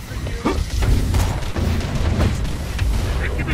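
A grenade blast in Borderlands The Pre-Sequel, a loud boom followed by repeated thumping impacts and gunfire in a chaotic firefight, with voices shouting over the action.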